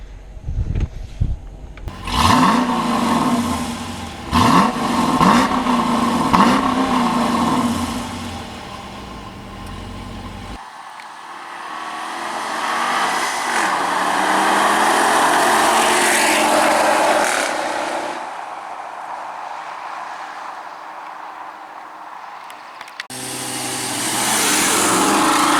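2017 Dodge Durango R/T SUV on the road, engine pulling and revving at first, then a steady broad drone of road and wind noise that swells and fades, with a sharp cut near the end.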